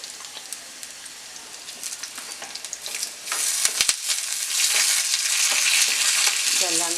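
Onions and curry leaves fry in oil in a pan for a Kerala-style chembu (taro) curry. A steady sizzle builds, then surges into a loud, dense crackle with sharp pops.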